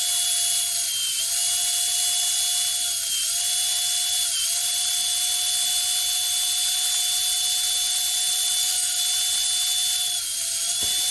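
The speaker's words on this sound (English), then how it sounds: "Now I need to cut the two sides of the machine." A table saw cuts the side parts of a simple labelling machine, a steady high-pitched motor whine running loud and continuous with slight dips in pitch as the blade meets the workpiece.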